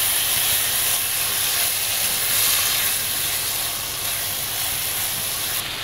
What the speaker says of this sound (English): Pretty much stir frying it in our butter.